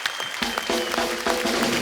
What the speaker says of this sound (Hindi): एक बार रहमान साहब के लिए जोरदार तालियां हो जाए।